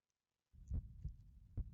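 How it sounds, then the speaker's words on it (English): Heartbeat sound effect from the visual novel ChäoS;Child: three soft, low thumping beats at an uneven, slightly quickening pace, heard alone after a moment of silence. "All I could hear was the sound of my own heartbeat."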